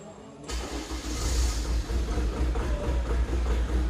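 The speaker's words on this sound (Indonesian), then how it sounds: "Kita contohkan ketika mesinnya dihidupkan." A Chevrolet Captiva diesel engine cranks and catches after a short quiet moment, then settles into a steady, loud, close mid-pitched running drone with no talk.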